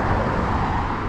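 Busy road traffic on the Historic National Road in La Gate, Maryland, a dense broadband roar of passing vehicles, steady and close, with no voices.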